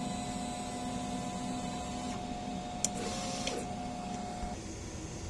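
A DTF printer runs a nozzle check, giving a steady mechanical hum with a faint tonal whine and a couple of brief clicks of the print head moving, fairly quiet and alone.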